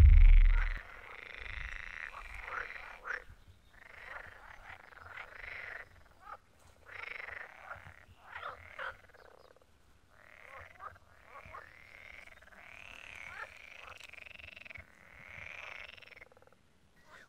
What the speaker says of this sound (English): What you just heard was a pond full of frogs.